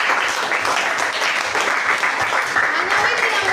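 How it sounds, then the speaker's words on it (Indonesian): A classroom group claps together in quick, uneven bursts, lively applause that carries on steadily with voices mixed in. "Tepuk tangan dulu untuk Winnie."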